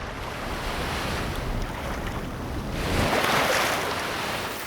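Strong wind blows off a lagoon, a steady hiss and roar mixed with surf-like wash that swells louder for a moment toward the end, with no voices.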